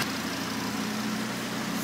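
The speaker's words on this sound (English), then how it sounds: "And as you can see from the engine, it's running very, very smooth, perfectly fine." Audi RS3 with a forged engine build idling steadily and smoothly after its first start, a low even hum with no talking.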